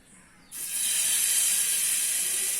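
Oil heats on a hot dosa griddle ready for frying vanjaram fish. A faint background gives way after half a second to a sudden, loud, steady hiss that holds to the end, with no speech.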